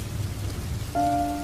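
A cartoon rain effect for a rainy night at a village cremation ground in a Bengali horror cartoon: soft, steady patter, with a sustained tonal hum rising over it near the end.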